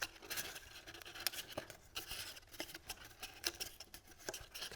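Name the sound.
folding paper tabs of a craft treat basket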